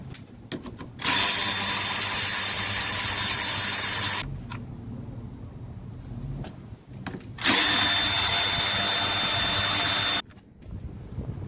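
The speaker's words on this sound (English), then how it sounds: "remove the two 10 millimeters that's holding the AC condenser to the radiator" An impact tool zips out the 10 mm bolts holding the AC condenser to the radiator of a Chevy Trailblazer, two loud bursts of about three seconds each separated by quieter garage clatter, close up.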